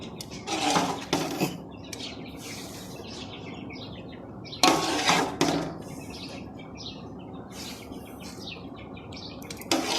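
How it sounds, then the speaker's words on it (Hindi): Custard vermicelli with pistachios and almonds being stirred in a pan for an Eid dessert, several bursts of scraping and clinking of a spoon against the dish with quiet pauses between. "अब इसको मिक्स करेंगे।"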